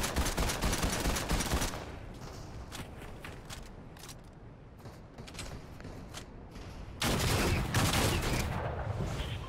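Rapid gunfire bursts in the Fortnite video game, loud volleys at the start and end with scattered sharper shots and quieter game ambience between, no talking.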